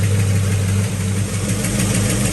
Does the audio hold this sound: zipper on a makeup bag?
no